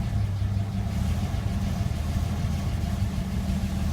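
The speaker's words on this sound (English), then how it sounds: "I'm sitting here in the yard watching the truck idle" A 1947 GMC truck engine idles steadily outdoors in a yard, throttle pulled slightly up, giving a continuous low rumbling drone with a faintly uneven beat, loud and close, with no talking.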